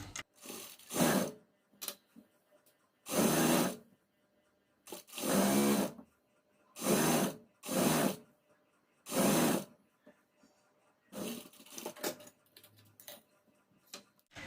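A sewing machine stitches down the folded-over top edge of a trouser waistband, running in several loud bursts of steady mechanical whirring separated by brief pauses.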